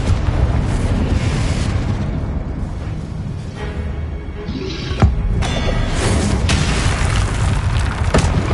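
Confringo fire spell explodes in Hogwarts Legacy, a loud sustained booming blast with rumbling low end, followed by a couple of sharper bursts and cracks, no talking over it.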